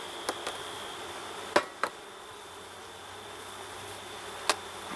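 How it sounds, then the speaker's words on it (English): Honey bees from an open hive being worked with a smoker, a faint steady buzzing hum with a few sharp brief ticks or clicks, fairly quiet and without talk. "see there's a good number of bees in there"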